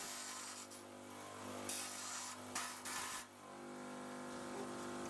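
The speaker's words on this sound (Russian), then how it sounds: "закруглить края на наждаке" A length of band saw blade has its edges rounded on a bench grinder, giving a steady close rasping, scraping grind with brief louder bursts partway through and no voices.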